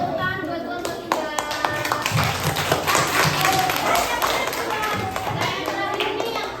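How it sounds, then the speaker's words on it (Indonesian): Second-grade class clapping for a student group, steady group applause running throughout under some children's chatter and a teacher's voice. "Kasih tepuk tangan buat kelompok 3."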